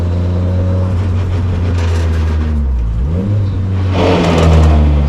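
A car engine revs hard under load, drops away sharply as the driver shifts, then blips back up in a quick heel-toe downshift before climbing again, loud and close with no talking.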